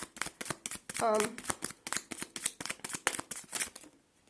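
Tarot cards being shuffled for a card reading, a quick run of crisp, rhythmic riffling and slapping strokes close to the microphone, with a voice briefly speaking over the middle of the shuffle.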